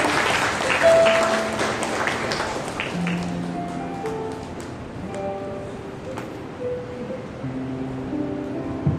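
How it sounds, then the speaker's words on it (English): Congregation applause for a sister at a New Year fellowship prayer meeting, a broad clatter of clapping that starts strong and thins out over several seconds, with faint tones and murmurs beneath. "Let's clap for sister."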